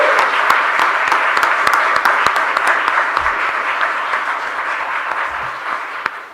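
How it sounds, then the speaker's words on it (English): A live games talks audience gives a loud round of applause, dense clapping with a few sharp individual claps standing out, gradually tapering in the final seconds, no voices heard. "please give them another round of applause"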